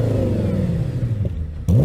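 An Audi S8's engine revs hard from idle, a deep rumbling roar that falls away and then bursts loud again at the end, close by and alone.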